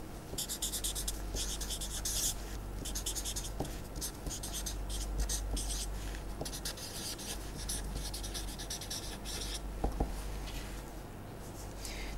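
Chalk or marker strokes scratch steadily across a board as a graph of a filter's magnitude response is sketched by hand during a signal-processing lecture, continuous close writing with brief pauses and no talk.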